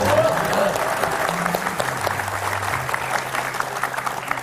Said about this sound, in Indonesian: Kalau mau tepuk tangan buat saya boleh nggak apa-apa